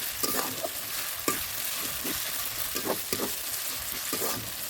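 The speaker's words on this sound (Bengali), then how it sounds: "ভালোভাবে নেড়ে নেব।" Spice masala with ginger-garlic paste frying in a pan for chicken kosha, a steady crackling sizzle broken by repeated scraping stirs, close and continuous without voices.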